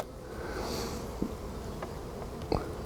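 Honeybees buzz steadily at close range while a hive is opened for inspection, a soft continuous drone with a couple of brief handling knocks.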